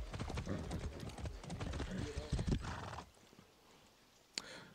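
Horse neighing and hoofbeats from the video game Far Cry 6, a busy close burst of whinnying and clopping under game noise for about three seconds, then a quieter stretch with one short sharp hit near the end.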